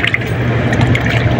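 Water gushes and splashes steadily from a clogged air conditioner drain at close range, a loud continuous pouring with a wet, dripping texture.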